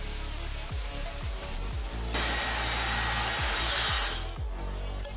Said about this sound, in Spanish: aplicaremos calor con un secador para asegurar que quedará bien pegado el vinilo